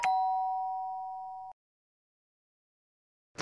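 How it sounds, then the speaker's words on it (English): A doorbell on a house doorstep rings once with a clear, sustained electronic tone lasting about a second and a half, then stops abruptly, leaving silence. "Tom rang the bell for the third time."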